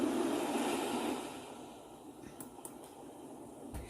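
Steady rushing water stream, like a river or waterfall, loud and broadband at first, then easing to a softer flow with a few faint clicks, with no talk over it.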